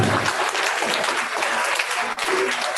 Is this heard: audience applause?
yes